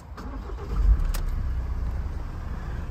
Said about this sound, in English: Just jump into the driver's seat and get the van started up